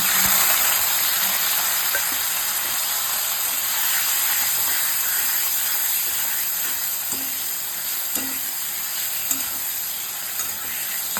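Ground spice paste with tomato sizzles steadily in hot oil in a pan, a continuous bright hiss and spatter with a few small pops and stirring clicks.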